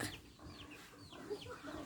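Startled chickens at a rural bamboo hut, giving a run of faint, quick clucks and squawks in close succession against a noisy outdoor background.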